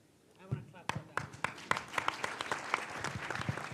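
Scattered claps build into a steady round of applause from an audience in a church hall at an innovation pitch event, starting sparse and thickening, with a voice speaking over it.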